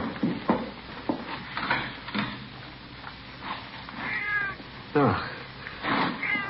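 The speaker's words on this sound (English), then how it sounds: "might be it's just a cat out in the streets" A cat out on the street meows in a few drawn-out, wavering calls against a dull background of knocks and movement, with a brief spoken word nearby.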